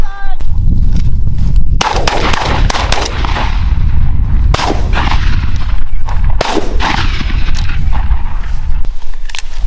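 Shotgun blasts ring out during an opening-day mourning dove hunt outdoors, with several loud, sharp reports at irregular intervals, each leaving a brief echoing tail.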